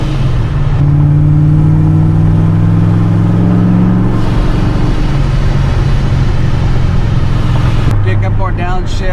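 A Corvette with a straight-pipe axle-dump exhaust revs hard, very loud and close, a steady raw roar that climbs and then settles, with a short shift near the end.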